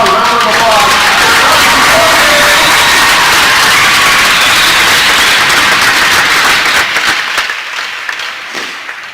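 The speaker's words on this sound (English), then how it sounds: "How about a round of applause?" Loud crowd applause and cheering in a hockey arena during a boys varsity game, a dense roar of clapping and shouts with an announcer's amplified voice over it at the start, fading down toward the end.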